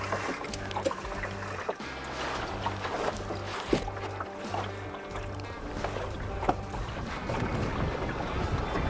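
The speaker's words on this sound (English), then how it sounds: "Oh, nice bit of wind there." Wind rushes past a small sailing dinghy out on the water, a steady buffeting roar across the microphone with faint water and boat sounds beneath, continuous and close.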